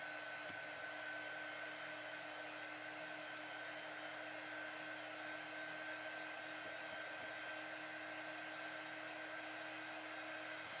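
Hair dryer blowing steadily on an autumn tiered tray craft, a constant, even whirring hum that runs unbroken and alone throughout.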